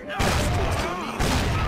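Gunfire erupts in the Mafia video game, with two loud bursts of shots and booms about a second apart over a dense, noisy background.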